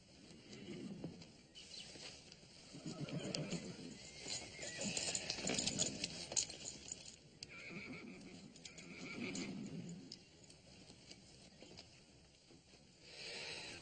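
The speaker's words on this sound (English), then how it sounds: "Connie, slap a saddle on this black horse." A horse whinnies and snorts faintly at a distance, with soft clattering and shuffling noises around it; no voices.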